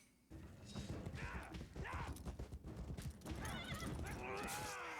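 Horses in a Game of Thrones battle scene neigh and whinny over thudding hooves and clashing combat noise, the loud shrill cries rising twice amid the chaotic melee, with faint speech mixed in.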